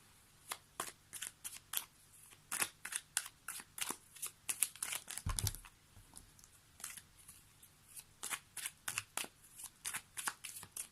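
A tarot deck is shuffled by hand, giving rapid, rhythmic bursts of card flicks and riffles that repeat close up, with a brief pause in the middle.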